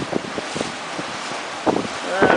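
A wind gust while sailing a small boat on a lake: rough, blustery microphone-buffeting wind noise with louder surges, under the intermittent voice of someone talking.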